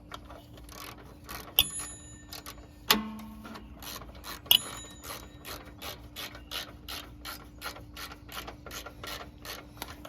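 Ratchet wrench clicking steadily as bolts are snugged on the radiator of a 3rd gen Toyota 4Runner, rapid metallic ticks in a regular rhythm with a few sharper clanks, close and alone.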